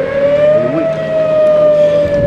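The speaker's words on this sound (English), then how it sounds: "They test out the sirens." A civil defense siren sounds during a routine test, a steady, loud, sustained wail that holds one pitch throughout with no talking.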